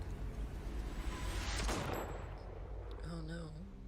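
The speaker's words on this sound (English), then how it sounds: "the gunshot." Gunfire in a Resident Evil game trailer, a loud burst of shots swelling in the middle of a noisy mix, followed by a tonal musical sting.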